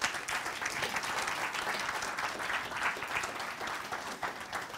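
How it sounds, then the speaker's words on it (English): A seminar audience gives a steady round of applause, continuous and even for about five seconds, somewhat distant and without speech. "Give him a round of applause."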